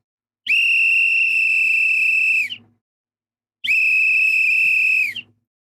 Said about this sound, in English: I wonder if they're gonna end up blowing the whistle.